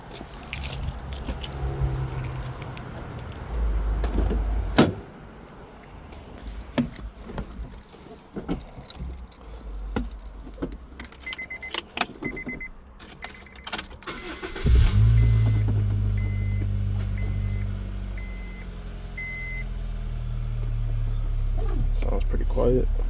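A 2010 Honda Fit GE8 with an HKS aftermarket exhaust, already warm, cranks and fires up after keys jangle and clicks, then settles into a steady, fairly quiet idle with a low exhaust drone.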